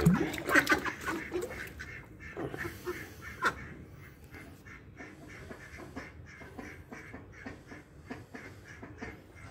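Pet mallard ducks quack near a small backyard pond setup with a water tap, loud raspy calls clustered at the start and then fading into softer quacking and ambient noise.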